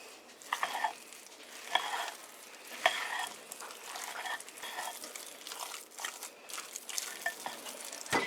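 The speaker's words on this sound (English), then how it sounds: "we're just going to fold in with a spatula our shrimp and our crab." Shrimp and crab being folded into a stuffed-potato filling with a spatula: soft, wet scraping and squelching strokes at close range, with a few sharper clicks of the spatula against the bowl.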